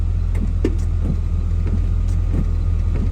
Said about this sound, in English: I do hear the washer fluid motor engaging, but there's no fluid in there